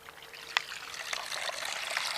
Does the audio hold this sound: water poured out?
yes